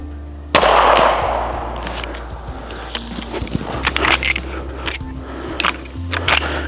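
A Civil War era gun fires once outdoors, a single loud close blast followed by a fading echo, then footsteps, clicks and handling noises.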